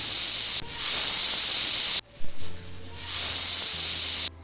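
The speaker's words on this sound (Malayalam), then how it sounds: "അപ്പോൾ നമുക്ക് അത് 3 വിസിൽ അടിച്ചെടുക്കാം." A pressure cooker full of jackfruit lets off loud, sustained hissing steam whistles, two long blasts broken by short gaps and sputters, close and alone.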